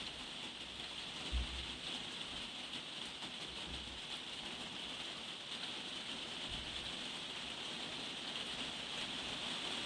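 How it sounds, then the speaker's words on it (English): Rain pattering on a conservatory roof, an even, continuous hiss of drops from start to finish with occasional soft low thumps, fairly quiet and with no talking. "it's just started raining and I'm filming in the conservatory"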